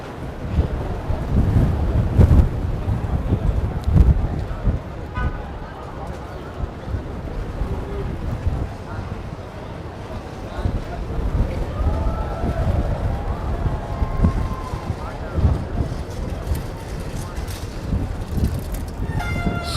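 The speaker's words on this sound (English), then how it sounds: "Super windy." Strong wind gusts down a New York City street, buffeting close and loud in a continuous rumbling roar with no break.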